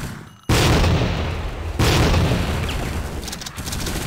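Grenade blasts in the Tactical Ops video game hit twice in quick succession, each a loud, sudden boom that rolls into a long, slowly decaying rumble.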